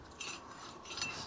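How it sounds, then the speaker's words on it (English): A Sea-Doo jet pump turned by hand gives a brief, close metallic scraping whir with faint ringing grinds. No one speaks. "Pump still spins."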